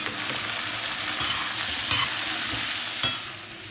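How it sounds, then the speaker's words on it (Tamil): Brinjal sizzles and is stirred in a hot pan with garlic and green chillies for a Tamil dried-fish curry, a continuous close frying hiss broken by occasional scraping strokes of a spoon. "கத்திரிக்காய் நல்லா வதக்கிக்கோங்க."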